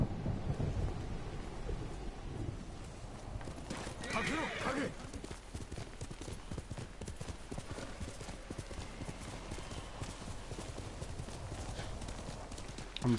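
Horse hooves clip-clopping in the video game Ghost of Tsushima, a steady rapid trotting rhythm under rumbling thunder and rain, with a brief whinny early on and a voice talking over it.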